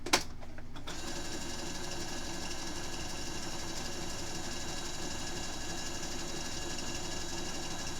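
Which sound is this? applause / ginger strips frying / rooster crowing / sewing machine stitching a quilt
sewing machine stitching a quilt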